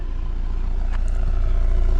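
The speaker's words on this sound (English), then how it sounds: "nice exhaust note." Exhaust note of a rear-wheel-drive BMW 118i hatchback, a deep, steady rumble, close and moderately loud, lasting two seconds with no talk over it.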